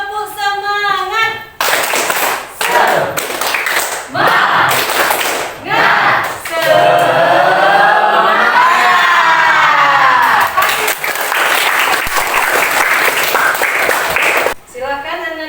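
Primary school class in Indonesia doing a rhythmic cheer clap, tepuk semangat, loud patterned group clapping mixed with children's chanting voices and cheering, ending in a brief pause.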